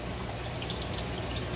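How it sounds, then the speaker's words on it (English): Rice is washed in a pot as water pours and swishes steadily for a brief moment, close and fairly quiet. "I like to wash my rice about 3 times"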